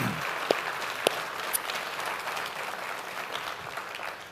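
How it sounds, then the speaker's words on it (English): A church congregation applauds veterans standing across the room, with steady dense clapping throughout and a few sharper individual claps standing out near the start. "we want to give them a round of applause for their"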